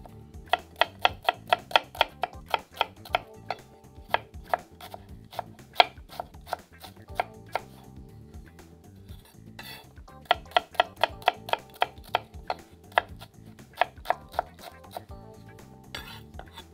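A knife chops a small onion on a board in quick, sharp, evenly spaced strikes, with a short pause before a second fast run of close, crisp cuts.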